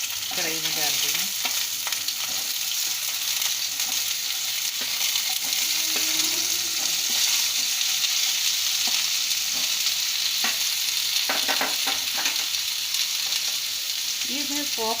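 Peeled baby potatoes fry in oil in a kadhai, a steady loud sizzle with occasional stirring scrapes and brief quiet talk over it.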